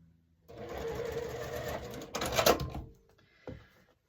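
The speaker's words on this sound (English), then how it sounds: "let's hope I sew this right" A sewing machine stitches an angled quilt block, running in a steady close burst for about two seconds, then a louder stretch, and ending with a brief final whir.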